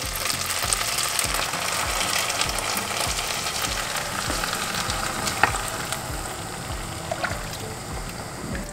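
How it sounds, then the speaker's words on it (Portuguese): Shrimp risotto rice simmering in a pan as hot broth is poured in and stirred, giving a steady close sizzle and bubbling with repeated scraping strokes of the spoon, no voices. "Vai regando e vai mexendo."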